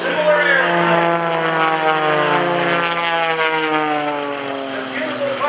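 Two aerobatic airplanes, a Wolf Pitts and an MX-2, drone overhead at a lakeside airshow with a steady, loud propeller whine whose rising and falling harmonics run throughout.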